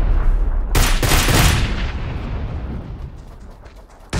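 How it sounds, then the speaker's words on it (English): Grenade blasts in the video game PUBG, one loud booming detonation with a long rumbling decay and a second explosion cutting in at the end, heard without talk. "Throwing a bunch of nades."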